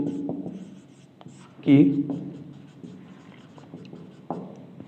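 Writing on a board during a physics lesson: scratchy strokes and taps, with one louder stroke near the middle, under continuous talking by the teacher.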